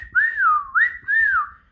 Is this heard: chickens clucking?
no